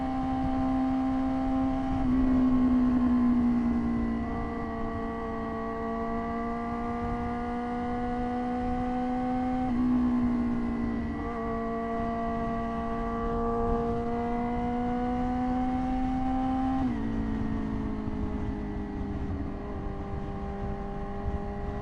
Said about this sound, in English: I'm just letting the RPMs build just so you guys can hear